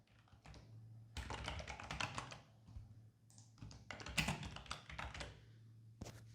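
Bursts of quick clicking keystrokes on a computer keyboard as text is typed into Mobitec MIE destination-sign software, close and quiet, separated by short pauses.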